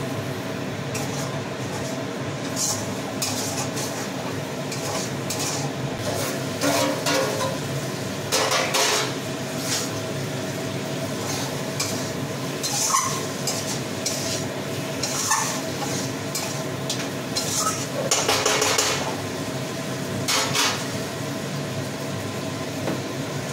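Kashmiri chili and spices are stirred and sautéed in a pot with a little water, with repeated metallic scrapes and clinks of a spoon against the pan over a steady background hiss.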